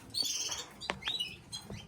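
A canary gives a few quick, bright chirps and short trills, close and fairly soft, with brief pauses between calls.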